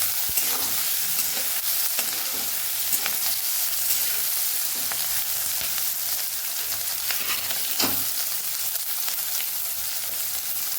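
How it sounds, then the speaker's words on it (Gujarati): Green chillies sauté in hot oil with mustard seeds and asafoetida, a close, continuous sizzle broken by scraping spoon strokes and occasional sharp pops. "મરચાંને સરસ આપણે સાતળી લેવાના છે।"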